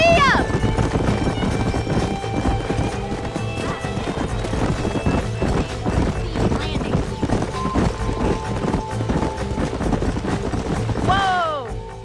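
Horses galloping in the video game Red Dead Redemption, rapid drumming hoofbeats with snorts and whinnies, loud and close throughout, with voices talking over the run.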